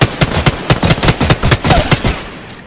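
Rapid automatic gunfire from the Apex Legends battle royale game, a steady burst of about a dozen sharp shots in quick rhythm, loud and close, trailing off at the end.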